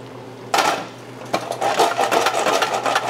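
A pan of clams for linguine alle vongole gets shaken on the stove, with shells rattling and clattering against the metal in quick repeated bursts, close and fairly loud, with no talking.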